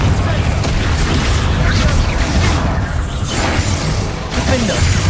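A Confringo blasting curse explodes in the video game Hogwarts Legacy, a dense burst of booming impact inside continuous loud game noise, with a voice partly over it.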